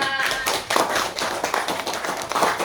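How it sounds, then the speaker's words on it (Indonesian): Classroom applause for a student in a fourth-grade primary school maths lesson, a group of children clapping steadily and fairly loudly for a few seconds, close by. "Beri aplaus kepada Mbak Syifa"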